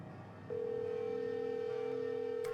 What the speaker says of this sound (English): I guess it was the right number because it's ringing.